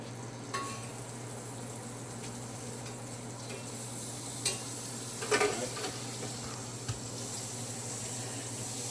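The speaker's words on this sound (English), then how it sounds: "just gonna add a couple of slices of butter" Slices of butter melting and sizzling in a frying pan preheated on medium-low heat, a soft steady crackle under a constant low hum, with a few small clicks and taps.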